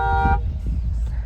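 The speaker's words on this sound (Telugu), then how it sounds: "లౌడ్గా ఉంటుంది హార్న్, దీనికి ఏం చేంజెస్ ఏమీ అక్కర్లేదు" A Mahindra XUV700 horn gives one short, loud, close honk at the start, then cuts off to low rumbling background with a faint voice.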